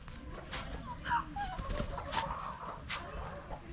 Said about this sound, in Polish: Idziemy ścigać kurczaki